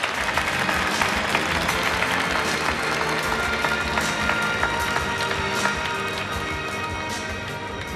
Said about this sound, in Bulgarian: Аплодисменти още веднъж за Георги Миланов.